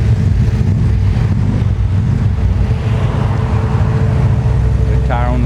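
A used Yamaha FZ6 motorcycle idles steadily close by with a constant low rumble throughout. A voice talks over the engine.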